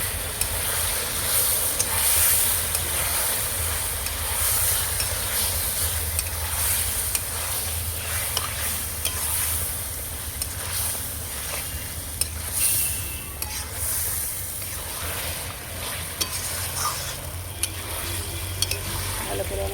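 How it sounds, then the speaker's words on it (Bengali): Beaten sour yogurt is stir-fried in a pan, with a continuous close sizzle and hiss under occasional spatula scrapes and clicks, held steady for a long stretch. "ফাটানো টক দই ভালো করে কষিয়ে নেবো"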